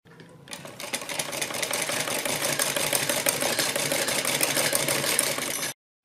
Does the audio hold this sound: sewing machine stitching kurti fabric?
yes